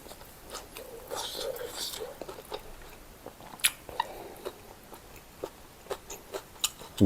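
Crisp bites and chewing of grilled Isan fermented pork sausage, close and quiet, with soft crunchy clicks recurring every half second or so after a brief louder rustle at the start.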